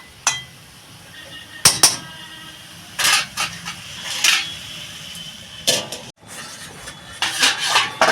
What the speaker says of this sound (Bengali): এবার আমি এটা ঢাকা দিয়ে দেবো